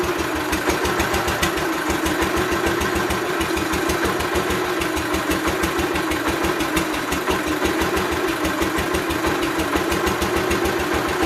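A 1988 Gravely 12G tractor engine idles steadily at close range after a carburetor adjustment, with an even, rapid thumping beat and a constant mechanical hum throughout.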